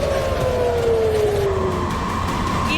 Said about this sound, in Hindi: इजराइल में कई जगहों पर सायरन की आवाजें सुनाई देने लगी